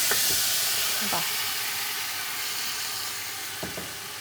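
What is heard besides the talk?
half-cooked mutton poured into a hot biryani pot, steaming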